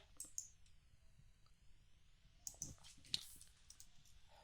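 Mouse clicks on a continue button in a custom CR UI extension setup screen, a few faint, sharp clicks spread over a quiet background with no talk.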